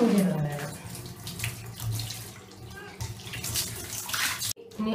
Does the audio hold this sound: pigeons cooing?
no